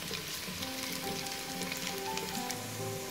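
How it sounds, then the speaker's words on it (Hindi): Garlic and onion sizzle steadily in hot oil in a pan, a dense, even crackling hiss that runs unbroken throughout, with no voices over it. "प्याज को थोड़ा soft करने के बाद इसमें मैं garlic डाल दूँगी और इसे भी थोड़ा सा fry करूँगी।"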